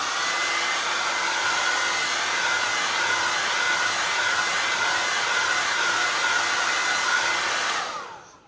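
A heat gun dries structure paste on a spring heart craft piece, a continuous loud, close blowing whoosh that holds steady for about eight seconds before switching off, no talking.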